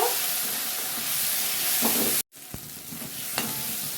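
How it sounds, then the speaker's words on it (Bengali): Tomato, salt and chilli powder sautéing in a hot pan for a jackfruit and potato curry, a steady sizzling hiss with occasional scrapes of stirring and a brief cut to silence midway. "আর দিয়ে দিচ্ছি একটা টমেটো দিয়ে দিচ্ছি নুন আর মশলাটা ভালো করে কষে নেব"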